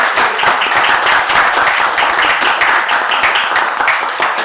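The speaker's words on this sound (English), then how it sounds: "I would suggest a round of applause for" Applause at a town meeting info session in Marlboro. A loud, close, continuous patter of many hands clapping fills the whole stretch without pause.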